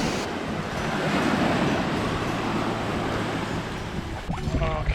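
Waves washing onto a beach, a continuous near hiss of surf mixed with wind buffeting the microphone, fairly faint, with a brief rustle near the end and no speech.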